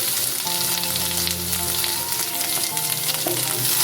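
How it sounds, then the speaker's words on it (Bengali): Diced potatoes and curry leaves fry together in hot oil, giving a continuous close sizzle with a light crackle and a few soft stirring touches, no voices over it. "কারি পাতা দিয়ে কিছুক্ষণ ভেজে নেওয়ার পর"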